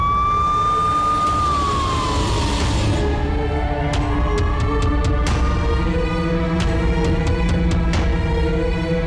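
An ambulance siren wails loud and close, its pitch sweeping down and then holding, over a heavy rumble of traffic, with sharp clicks toward the end.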